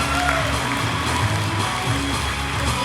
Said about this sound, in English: Judges, give them a round of applause.